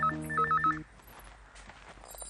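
A telephone bell rings in a home in a Marathi TV serial, several short repeated trills close and clear for under a second before giving way to quiet room tone.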